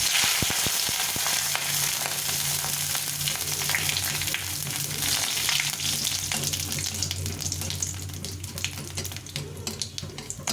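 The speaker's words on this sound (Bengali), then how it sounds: "এখন এর মধ্যে এই যে নিয়েছি জিরে শুকনো লঙ্কা গোটা গরম মশলা দারচিনি এলাচ আর তেজপাতা এটা দিয়ে দিই" Cumin, dried red chillies, cinnamon, cardamom and bay leaves fry in hot oil, giving a continuous loud hiss and crackle with a faint low hum beneath it, close by and without speech.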